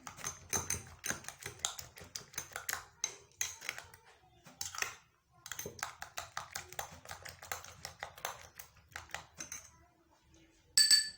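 A spoon stirs full-cream milk into bread omelette batter in a bowl, making rapid, rhythmic clinking and scraping taps that come in quick bursts with brief pauses, close and clear.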